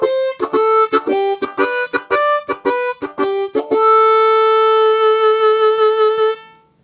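A harmonica plays a string of short, sharply tongued notes in a choppy rhythm, then holds one long steady note that fades out, heard alone and up close.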